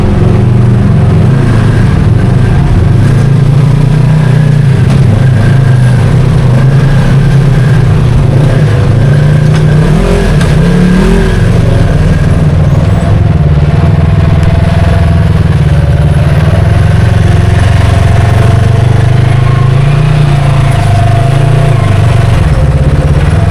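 Off-road vehicles climb a rocky waterfall in Box Canyon, with a steady, loud engine drone running the whole time and a few throttle surges around the middle, with no talking.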